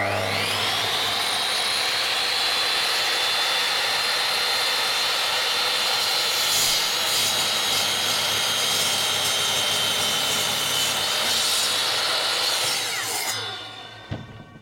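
A power saw with an LED guide cuts through a wooden board in one long, loud, steady motor whine that holds for about thirteen seconds, then cuts off abruptly into near silence.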